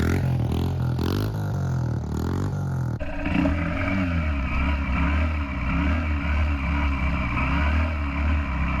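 A Honda CRF125 dirt bike fitted with a folding shift lever blips and revs hard for a wheelie, its engine note rising and falling in quick surges, close and loud.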